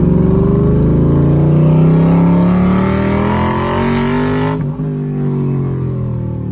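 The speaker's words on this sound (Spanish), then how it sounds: "Un vehículo que conserva sus escapes laterales, claramente buscan que sea lo más parecido a la, versión original, con un motor espectacular, suena demasiado, demasiado bien." A Shelby Cobra replica with side exhausts runs loud and close, its engine note rising steadily for several seconds and then easing slightly.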